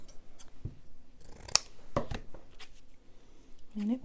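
Scissors snip through paper scraps for a junk journal in a few quiet, sharp cuts, with light handling noise around them and no speech.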